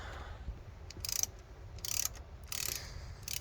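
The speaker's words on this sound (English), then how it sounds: "I'm going to start taking out these thermostat housing bolts." Bolts are removed from the thermostat housing of a 2009 Chevrolet Cobalt, with soft, close ratchet clicks coming in four short bursts over a low engine-bay hum, and no talking.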